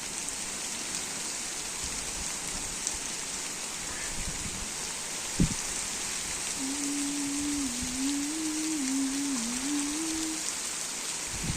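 Heavy rain pours down steadily and close by as an even, unbroken hiss, with a single sharp knock midway and a low wavering hum rising briefly near the end.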